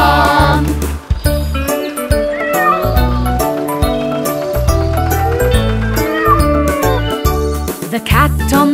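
A singing voice imitates a cat's repeated meows in a bouncy children's tune backed by music.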